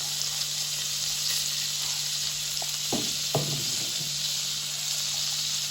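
Fennel seeds sizzle in melted margarine in a pan, a steady close frying hiss with a few soft stirring scrapes and taps midway, no talk.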